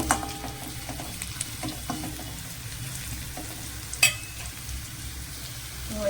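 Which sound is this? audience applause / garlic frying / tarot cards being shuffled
garlic frying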